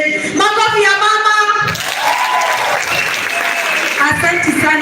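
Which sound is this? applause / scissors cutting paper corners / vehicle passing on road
applause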